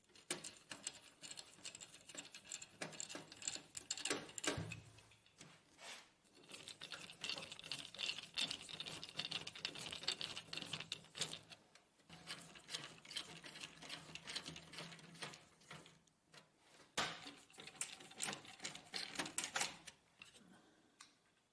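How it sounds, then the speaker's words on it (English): An electric screwdriver drives screws in to fit the top cover of an HP LaserJet printer, whirring in several long buzzing runs separated by brief pauses, close and fairly quiet, with no talking. "Install the top cover. Insert its 4 screws."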